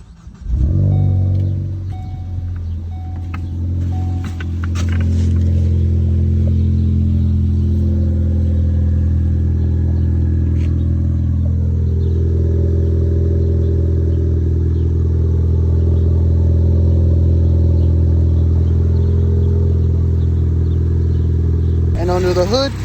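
A 2015 Ford Focus ST with a single-turbo four-cylinder and aftermarket intake cranks and fires up, then holds a loud, steady idle with a brief rev near the start and a quick blip at the end.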